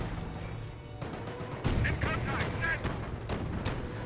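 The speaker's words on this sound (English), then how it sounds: "Nebwarfer barrage trying to hit this base again" Nebelwerfer rocket artillery barrage in Company of Heroes, a real-time strategy war game, with a dense rumble of launches and impacts, distant battlefield fire and scattered blasts continuing under brief game voices.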